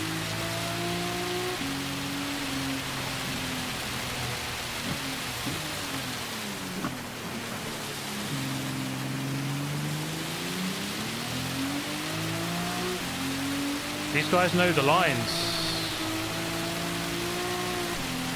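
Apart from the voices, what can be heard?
loud rain in the video game Gran Turismo 7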